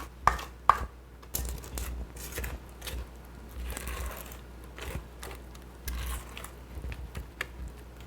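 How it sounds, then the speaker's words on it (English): A spatula scraping cream cheese from the sides of a mixing bowl for a pumpkin pie cheesecake gives a series of close, uneven scrapes and soft taps, with a couple of sharper knocks near the start. "So we're gonna scrape down our bowl because the cream cheese tends to stick to the side."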